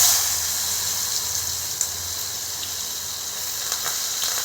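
Onion hits hot oil in a pan for a dried fish and egg curry, giving a continuous bright hiss of frying with a few faint pops and clicks, steady and close, with no voices.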